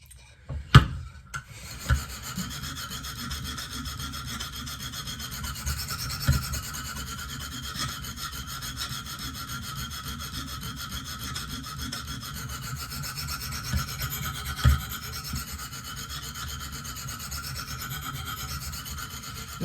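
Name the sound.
KME fixed-angle sharpener stone on Benchmade Steep Country knife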